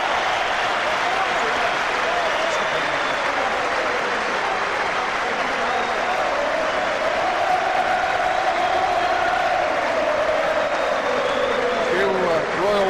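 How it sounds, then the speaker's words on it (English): Football stadium crowd at the 1990 League Cup Final between Nottingham Forest and Oldham Athletic applauding Oldham, a broad, steady roar of clapping and cheering from all around the ground, with a commentator talking over it throughout. "And all around the ground there's applause for Oldham Athletic."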